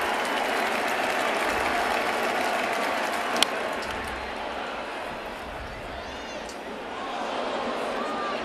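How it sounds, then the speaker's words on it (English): A big baseball stadium crowd at a New York Yankees game against the San Francisco Giants applauds and cheers, a dense steady roar of clapping and voices with a brief sharp crack near the middle. "Big crowd rising."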